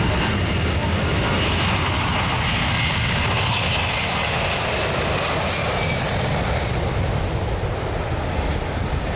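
An airliner roaring past at the Australian International Air Show 2009: a loud, steady, broadband engine roar that fills the whole stretch with no break.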